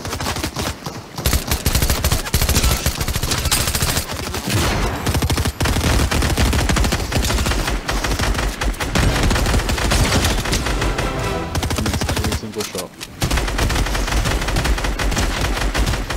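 Dense, continuous gunfire in the video game Fortnite, with rapid loud bursts and overlapping automatic shots filling the whole stretch, close and sustained with only brief dips.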